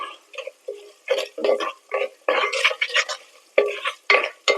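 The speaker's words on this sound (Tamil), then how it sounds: "இது கொஞ்சம் சாஃப்ட் ஆகிற வரைக்கும் எண்ணெயிலே நல்லா வதக்கி விட்டுக்கலாம்" Small onions sautéing in oil for Karaikudi paruppu urundai kuzhambu: repeated bursts of a spoon stirring and scraping the pan over a soft, steady sizzle, close and clear with no talking.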